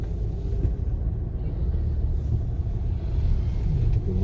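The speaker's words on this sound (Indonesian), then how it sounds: "Ada mobil lagi pak." A car passes nearby on a road near a reservoir at Gunung Muria outside Pati, a steady low engine and tire rumble heard from inside a vehicle, with no clear speech.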